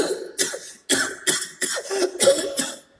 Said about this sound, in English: from the tenor of his cough